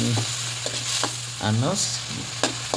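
Milkfish and tomato fry in a pan with a steady sizzle, broken by a few scraping stirs of a utensil against the pan, close and moderately loud, alongside a low constant hum.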